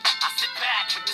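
An iPhone ringtone plays alone, a bright repeating chime in short pulses that loops several times in quick succession.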